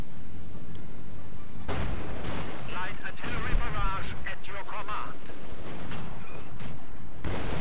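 A tank is destroyed by anti-tank gun fire in the World War II strategy game Company of Heroes 2, with booming cannon shots and explosions over a rumbling battle backdrop while a commentator talks.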